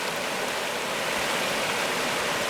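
Water rushes steadily down a stream at a campsite, a continuous close, even hiss of flowing water with no voices.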